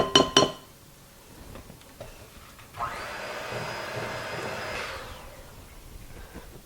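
An electric mixer whirs steadily for about two seconds as it beats Christmas cookie dough in a bowl, preceded by a few sharp clinks of utensils against the bowl.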